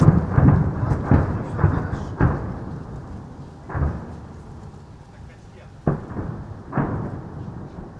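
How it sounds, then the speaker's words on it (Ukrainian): Several heavy explosion booms strike at irregular intervals over a Donbas city near the front line, some close together, each followed by a low rumbling decay against a quiet background. "Несподівано чуємо в повітрі сильний вибух."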